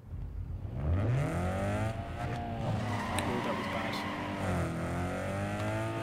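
Several cars launch off the line in a drag race in Need for Speed Underground 2, their engines revving loudly and climbing in pitch through the gears, with overlapping motor drones continuing throughout.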